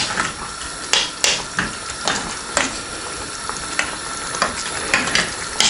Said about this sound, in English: Still got some chunks of that plum tomato, so I'm just breaking them up a bit